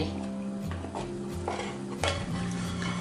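A spatula scrapes around the sides of a mixing bowl of banana butter bread dough, giving a few soft scuffs and knocks over a steady background hum, with someone speaking briefly.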